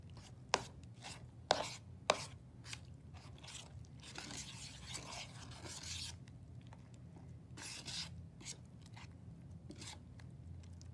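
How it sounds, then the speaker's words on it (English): Homemade slime being stirred, with soft wet scraping and squelching that runs continuously, broken by a few sharp clicks and knocks of the stirring tool, close and fairly quiet. "Just gonna stir a little bit more."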